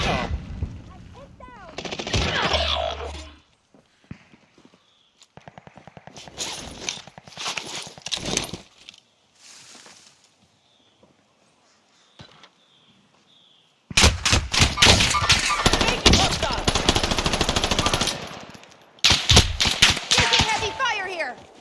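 Heavy automatic gunfire in a video game, loud rattling bursts separated by quieter gaps, with two long sustained volleys in the latter half and brief game voice lines between.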